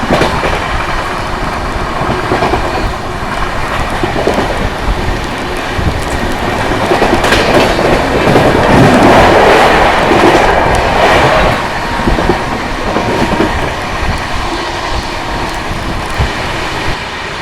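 The Radhikapur Express runs at about 110 km/h, heard from inside as a loud, continuous rumble with steady clickety-clack of the wheels over rail joints and no talk.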